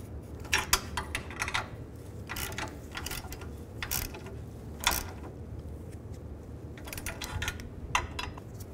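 A ratchet tightens nuts on a 2008–2012 Ford Escape catalytic converter, with repeated bursts of quick clicking pawl strokes, close by and moderately loud, over faint background noise.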